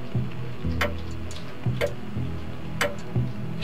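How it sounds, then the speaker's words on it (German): An in-game clock in the puzzle video game Only If ticks steadily and loudly, regular clicks about once every second with a faint background hum and no talk. "Die tickt auch krass laut."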